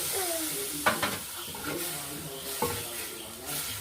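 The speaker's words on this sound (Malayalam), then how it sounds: "വെള്ളം അങ്ങോട്ട് നമുക്ക് ഒഴിച്ചു കൊടുക്കാം." Water poured into frying chicken curry masala in a pan, a soft sizzling hiss with a few sharp splashy bursts and stirring scrapes, close and fairly quiet.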